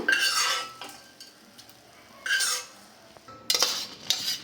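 A utensil stirs and scrapes ingredients dry-roasting in a metal pan for a spiced preserve, giving a few bursts of scraping and clinking with quiet gaps between, close by and moderately loud.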